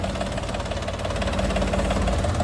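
A small DongFeng mini tractor engine runs steadily nearby, a continuous rattling chug with a rapid mechanical knock throughout.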